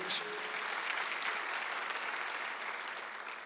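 A worship congregation in a church bursts into sustained, even applause, dense and moderately loud throughout, with no speech over it.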